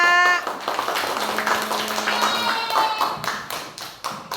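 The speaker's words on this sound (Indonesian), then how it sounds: "Tepuk tangan dulu, Nak." Children in an elementary classroom clapping their hands, a burst of quick uneven claps from a small group, with brief chatter and a high-pitched voice near the start.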